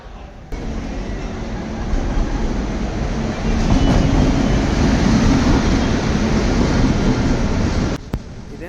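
A passenger train pulling into a railway station, with a loud, steady rumble of rolling carriages and wheels that grows a little louder midway and continues throughout. No speech.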